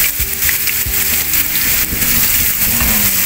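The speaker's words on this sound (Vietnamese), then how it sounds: "Trời mưa ầm ầm các bạn." Heavy rain pours down outdoors around an open-air cooking spot, a dense, loud, continuous hiss throughout, with faint low thumps and clatter underneath.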